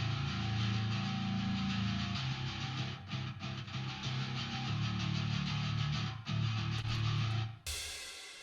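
A room reverb from IK Multimedia plays on its own, with the dry bass removed, a dense wash of sustained low tone that fades out abruptly near the end.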